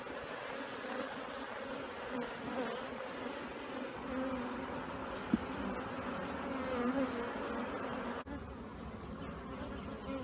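A strong colony of honeybees hums steadily around a hive at a queen-mating yard, a soft, continuous drone with no voices over it.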